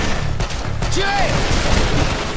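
Gunfire in the video game Call of Juarez: The Cartel, a few sharp shots amid a chaotic firefight with whizzing and ringing tones, with voices shouting over it.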